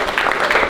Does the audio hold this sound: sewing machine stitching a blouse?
no